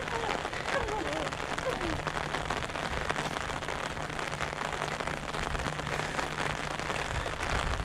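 Rain falling steadily on surfaces during a rainy-day walk, a constant dense patter that fills the whole stretch while people talk over it.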